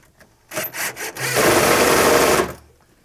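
A power drill drives 1¼-inch screws through pre-drilled holes into a wooden top mounted on a cabinet, giving a few short buzzing bursts followed by one long, steady, loud whir that then stops.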